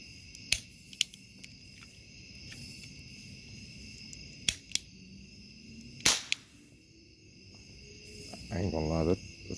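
A Toymazing Super Cap Gun fires caps in a few sharp, loud cracks spread unevenly over several seconds, with a quiet background between shots.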